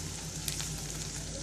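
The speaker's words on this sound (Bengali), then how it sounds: "পেঁয়াজটা ভালো করে ভাজা হয়ে গেছে" Onions frying in a pan for a home-cooked dried fish curry with jackfruit seeds, potatoes and greens, giving a steady, close, even sizzle with a faint crackle, no talk over it.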